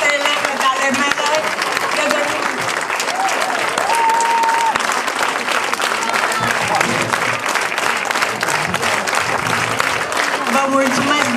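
Sustained, loud audience applause fills the room after a ballet school performance at the Reduta in Brașov, a dense steady clapping with a few voices mixed in throughout.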